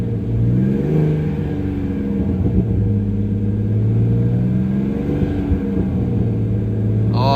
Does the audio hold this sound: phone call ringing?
no